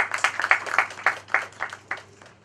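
Scattered hand clapping from a small seminar audience at an income tax seminar, a dozen or so uneven claps that start brisk and thin out, fading toward the end.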